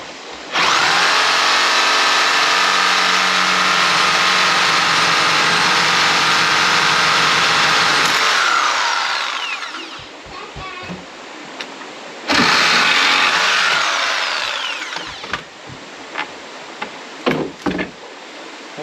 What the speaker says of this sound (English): I'm going to take the reciprocating saw and cut off this railing right here first thing